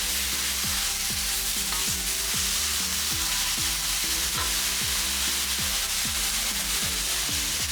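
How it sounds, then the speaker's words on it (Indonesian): Chicken, shrimp and finely cut carrots are stir-fried for bihun goreng, with loud, continuous sizzling and rhythmic scraping strokes of a utensil against the pan. "tambahkan wortel yang telah dipotong kecil-kecil dan lanjutkan digongseng"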